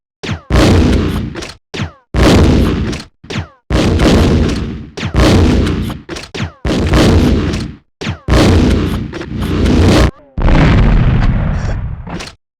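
Grenade launcher rounds fired and exploding in the Resident Evil Survivor video game: a rapid series of loud, close booming blasts, each followed by a short gap, with faint talk alongside.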